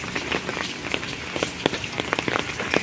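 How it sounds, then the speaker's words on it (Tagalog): Steady rain falling outdoors in the Philippines during a June visit to a UNESCO Global Geopark, a dense continuous patter with scattered louder drops striking nearby surfaces. "tingnan nyo yung panahon ng ulan"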